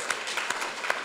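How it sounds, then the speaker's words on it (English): A round of applause breaks out for the winners of the 2015 NicoTEAM nicotine poster contest, a brief burst of scattered clapping at moderate loudness. "Let's give a round of applause"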